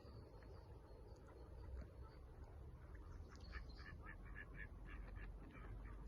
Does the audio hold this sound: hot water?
no